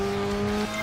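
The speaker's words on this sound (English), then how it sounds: "the car's sound is actually louder than the music playing" A racing car engine in the video game Project Gotham Racing 4 drones steadily with a sustained high whine, then the pitch drops abruptly near the end, like the car shifting or easing off.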